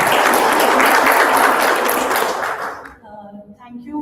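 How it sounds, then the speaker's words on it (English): Audience applause at a tech and startups panel discussion, a dense burst of clapping that dies away after about three seconds, followed by a quiet room with a faint voice. "Round of applause please for Srilata."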